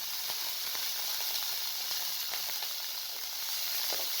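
Minced meat with garlic fries in hot oil, giving a steady, close, bright hiss and sizzle with small crackling pops scattered through it.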